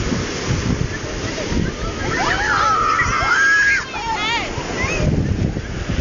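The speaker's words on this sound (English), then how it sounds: "Waves are coming up higher and higher." Ocean waves surge and wash water around a sand castle's moat on a windy beach, a rushing slosh under wind buffeting the microphone, with a brief higher-pitched squeal in the middle.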